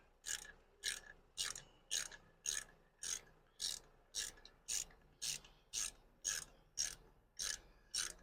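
Ratchet wrench clicking steadily while loosening a bolt during an oil change on a BMW R1100R motorcycle: about fourteen evenly spaced bursts of rapid clicks, close and clear, with no talking.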